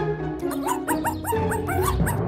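A dog gives a quick run of short, rising yips and barks, about six in two seconds, fairly close, over steady background music in a comedy sketch where people act like dogs.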